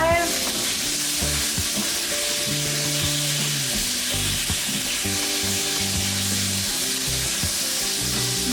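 Tofu scramble frying in a pan on a stove turned down to medium heat, giving a steady loud sizzle with scraping and stirring clatter throughout and no talk.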